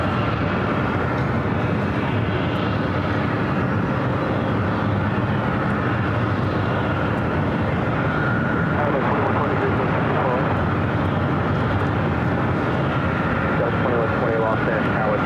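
Airplanes at Los Angeles International Airport, a steady broad roar of jet engines from aircraft on the ground and in the air near the runways, continuous through the whole stretch with a voice talking over it.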